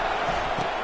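Stadium crowd noise from the College Football 25 video game during a Notre Dame at South Carolina matchup, a brief, steady roar of a large crowd with no break.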